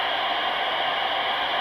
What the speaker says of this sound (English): That is the white noise that this circuit is generating.